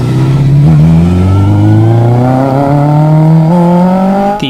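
A small car fitted with a Kawasaki 1100 motorcycle engine revs hard and close, its pitch climbing steadily through the gears in a loud, continuous howl with no talk.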